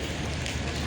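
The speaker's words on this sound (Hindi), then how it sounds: "बहुत बारिश हो रही है आज" Heavy rain pours down as a dense, continuous hiss of drops on surfaces, loud and close, with no break across the brief stretch.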